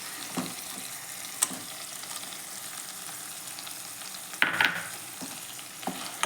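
Tomato and onion paste for paneer butter masala fries in a pan, a faint, low sizzle broken by occasional scrapes and knocks of a spoon stirring it.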